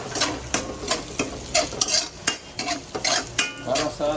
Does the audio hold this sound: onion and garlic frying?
yes